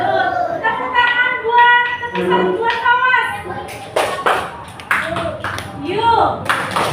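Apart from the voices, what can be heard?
children clapping hands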